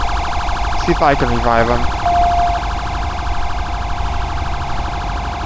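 A police car siren wails steadily and loudly in the video game GTA V with the LSPDFR mod, under a continuous engine drone. Someone speaks briefly over it.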